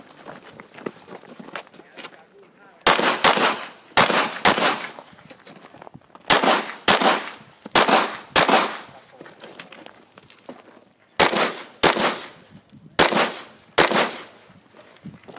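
Pistol shots fired in a police-style shooting drill on a range: sharp, close reports in quick bursts of two or three, separated by pauses, with brief speech and faint movement sounds between volleys.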